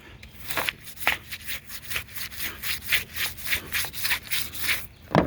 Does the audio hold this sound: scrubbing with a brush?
yes